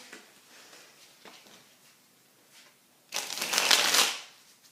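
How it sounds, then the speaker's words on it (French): A deck of playing cards is shuffled up close, with a few soft riffles and then one loud, dense riffling burst lasting about a second before it stops. "Le paquet peut être mélangé."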